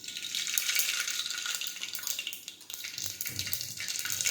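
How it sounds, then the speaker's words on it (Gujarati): Mustard seeds and cumin hit hot oil for a Gujarati ridge gourd sabzi, giving a loud, steady, crackling sizzle that holds for the whole stretch. "હવે આપણે તેમાં રાઈ અને જીરું નાખી દઈશું."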